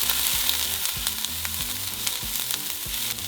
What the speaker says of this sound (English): we're going to throw in our onions and jalapenos. And now we're just going to cook it for a couple minutes.